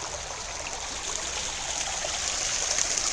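Steady rushing and trickling of Little Weaver Creek flowing continuously near Weaverville, fairly close, with no voices.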